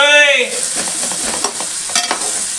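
Tomatoes and turmeric being stirred in a pan, a close sizzling hiss with scattered scraping and clinking strokes, following a brief tonal squeal at the start, with no voices.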